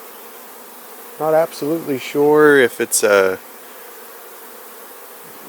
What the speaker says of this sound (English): the bees are really kind of crazy